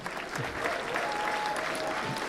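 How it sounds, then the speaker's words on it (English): An audience at a brass band contest results ceremony applauds for percussion, a steady dense wash of clapping that carries through the whole stretch without voices. "we'll have another round of applause for percussion"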